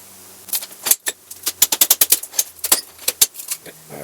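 A metal sheet being cut along one edge for a branding iron: a rapid, irregular run of sharp, close metallic snaps and clicks, loud and alone.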